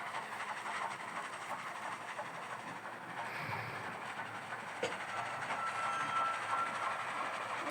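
A train moving in a video game gives a steady rumbling, rolling noise with faint rhythmic clatter and a brief high whistle-like tone near the end, continuous and moderately distant.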